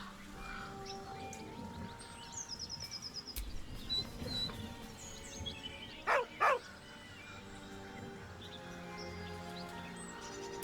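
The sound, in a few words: dog whining in video game Baldur's Gate 3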